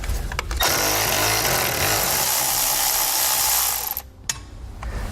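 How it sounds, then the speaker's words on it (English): A 10mm socket on a ratchet or power driver whirs steadily at close range while pulling out bolts from a metal piece and plastic panel on a 2018 vehicle, stopping briefly near the end. "So we can grab a 10mm socket and start pulling those out."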